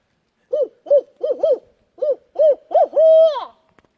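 Barred owl hooting in a wooded state park: a clear series of about eight rhythmic hoots, ending in a longer drawn-out call, against near silence.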